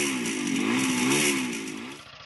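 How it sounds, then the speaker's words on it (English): A Motobecane 350 three-cylinder motorcycle engine revs steadily and loudly with a smooth, buzzing tone, then eases off near the end. "something very intoxicating about the sound of a 3-cylinder motorcycle engine"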